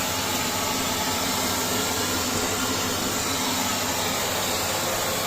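Vacuum cleaner running steadily over a small, shallow car radiator, a continuous broadband whooshing hiss with a steady motor drone, close and loud throughout with no talking.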